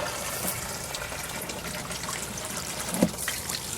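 Water trickles and splashes steadily from a tap, fairly quiet, with a small knock partway through and nobody talking.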